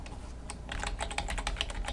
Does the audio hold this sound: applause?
no